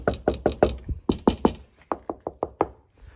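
A run of dull, deadened knocks on the sound-deadened panels of a Land Rover Defender 90 taps out in quick bursts of three or four, each thud short and muffled, then trails off.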